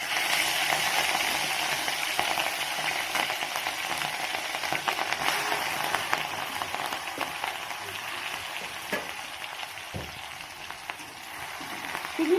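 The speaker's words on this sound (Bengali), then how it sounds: "এবার আমি চিংড়ি মাছের মাথাগুলো এর মধ্যে দিয়ে দেব।" Prawn heads frying in hot oil in a wok, a dense, steady sizzle that stays loud and even throughout, with a few faint clicks of utensils.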